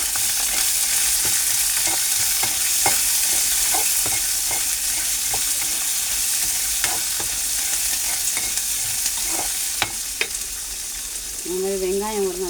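Chopped large onions fry in hot oil with a steady, dense sizzle while a utensil stirs, giving sporadic scraping clicks against the pan, close and continuous throughout.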